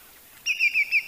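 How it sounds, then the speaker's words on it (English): A lesser yellowlegs calls with four short, high whistled notes in quick succession, close and clear against a quiet background. "Here's the lesser yellowlegs."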